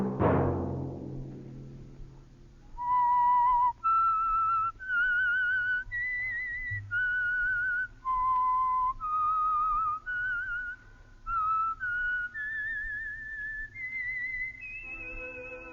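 A lone whistler carries a melodic theme tune, the signal for The Whistler radio program: a single clear note rising into a string of sustained, evenly spaced phrases that climb steadily in pitch, with nothing else heard.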